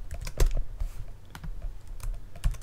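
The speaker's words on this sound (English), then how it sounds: "Now that I've got this connection open, I can just type something." Rapid clicking keystrokes on a Mac computer keyboard, close and fairly loud, in an irregular burst of taps with short pauses between them.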